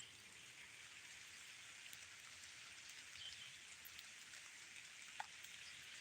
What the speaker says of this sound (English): Can you hear it raining still?